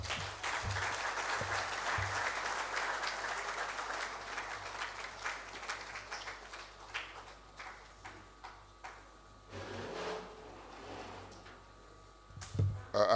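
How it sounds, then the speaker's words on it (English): Sustained applause from a seminar audience at a trade event in Nigeria follows a speech, loud at first and thinning into scattered claps before a final burst. "Another round of applause, please,"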